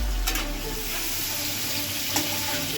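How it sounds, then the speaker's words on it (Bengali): Cubes of paneer fry in hot oil on a medium flame, giving a steady close sizzle throughout with a couple of brief louder crackles. "এটা আমি হালকা ব্রাউন হওয়া পর্যন্ত ভেজে নেব"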